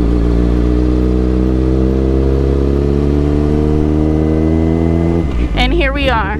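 A motorcycle engine runs loud and close in first gear through a turn, holding a steady droning note before dropping off and briefly revving as a voice talks over it.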